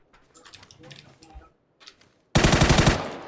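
Video game gunfire, a loud rapid machine-gun burst near the end that follows quieter clicking and tapping sounds and brief pauses.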